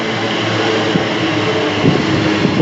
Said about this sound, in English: Yeah, you can see the train!